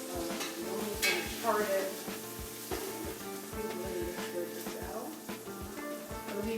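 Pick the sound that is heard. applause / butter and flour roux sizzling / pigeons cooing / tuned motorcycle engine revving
butter and flour roux sizzling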